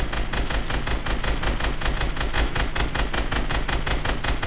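Steady rapid bursts of automatic gunfire, loud and continuous with an even repeating rhythm, as someone fires at a target, with no talking.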